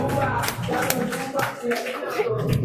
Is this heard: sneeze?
no